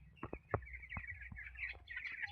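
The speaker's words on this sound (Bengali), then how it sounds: "এই আমার ফার্মে দেখছে এই যা মুরগি কত সুন্দর আছে" Chickens on a poultry farm give scattered clucks and short chirps at a moderate distance, with a few soft thumps and a low background hum, and no speech.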